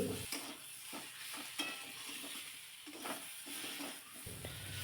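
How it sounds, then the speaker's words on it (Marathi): Oil sizzles steadily in a pan as eggplant pieces are sautéed in spiced tempering oil, with occasional stirring scrapes and clatters close by. "ही वांगी अशीच या मसाल्यामध्ये तेलामध्ये फोडणीमध्ये परतून घ्यायची"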